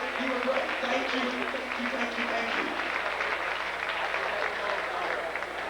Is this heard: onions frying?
no